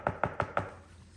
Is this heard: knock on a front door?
yes